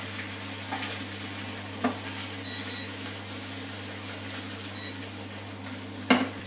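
Okra sizzles steadily in a hot pan with onion, bay leaf and crackling mustard seeds, a continuous close frying hiss with a couple of brief clinks from the pan.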